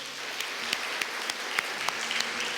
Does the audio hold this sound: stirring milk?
no